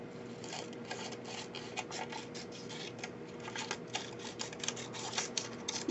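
Scissors snip through paper while an image is cut out for an art journal, a quick run of close, dry clicks and rasping cuts in an uneven rhythm with no talking.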